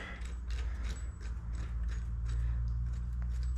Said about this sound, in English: What I'm going to do is I'm going to tighten all these bolts.